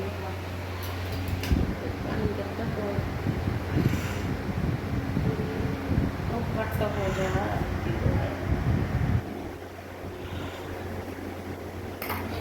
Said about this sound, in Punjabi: ਚੱਲਦੀ ਆ ਮੋਟਰ ਹਵਾ ਚੱਲਦੀ ਆ